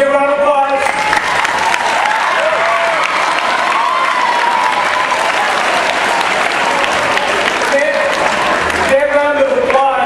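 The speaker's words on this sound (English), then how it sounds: "That round of applause is for the students and staff here that recognize the importance of history." An audience at a school's 50th anniversary celebration claps for its students and staff in a dense, sustained round of applause, with a voice speaking over it at the start and again near the end.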